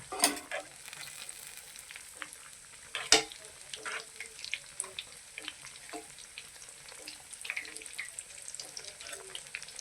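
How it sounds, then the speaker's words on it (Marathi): A bread patty fries in a pan with a steady soft sizzle, with a sharp scrape and clack at about three seconds as it is flipped, followed by lighter scraping taps. "एक बाजू चांगल्या रीतीने फ्राय होऊ द्यायची हे बघा आता आपण ह्याला पलटी मारून घेऊया"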